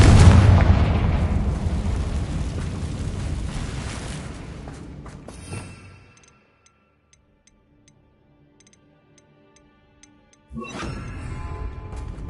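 A Confringo blasting spell in the Hogwarts Legacy video game sets off a loud, rumbling explosion that decays over about six seconds into near silence, then another blast of noise bursts in near the end.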